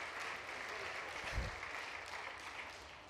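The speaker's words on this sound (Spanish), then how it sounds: "Podéis aplaudir al Reino de España." An audience at a book presentation keeps up steady applause for about three seconds, a continuous even patter with one brief low thump partway through.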